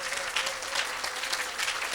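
Church congregation applauding and cheering for Jesus Christ at a French-speaking evangelistic service, a steady, dense wash of clapping that holds at an even level for the full two seconds.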